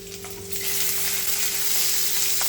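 Onions frying in oil with green chillies and chopped tomato added, a steady dense sizzle that swells after the first half-second and holds loud and even throughout, with a faint electrical hum underneath.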